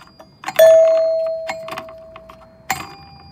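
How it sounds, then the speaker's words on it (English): A Geeni/Merkury smart camera doorbell chime sounds a single clear ding that rings out and slowly fades, with light handling clicks before and a clatter at the end. "So we know the bell is working properly."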